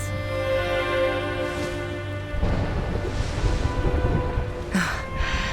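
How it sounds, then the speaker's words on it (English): In Dragon Quest XI, a low rumble of thunder rolls in over a wash of steady rain, with a soft tonal game drone sitting beneath a dense patter of drops. "Would you look at it thundering away out there?"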